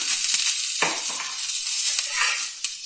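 Onion pieces added to a cast iron tawa on a low flame, giving a steady close sizzle and crackle with a few soft scraping stirs.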